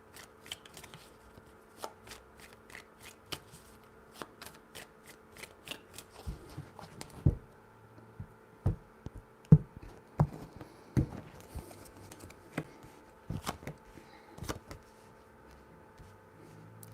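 Tarot cards are shuffled, a run of crisp riffling flutters and sharp slaps and taps spaced irregularly across the stretch, close and fairly quiet with no one talking.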